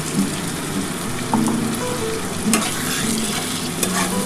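Spiced water splashes into masala frying in a pan for a katla fish head and potato curry, raising a steady loud sizzle with stirring scrapes and a few sharper bursts, no voices.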